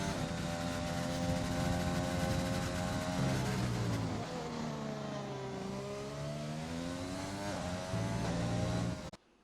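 A racing car engine in a video game at the Bahrain circuit, a steady high-revving whine that dips and climbs through gear shifts, alone and fairly quiet before cutting off at the end.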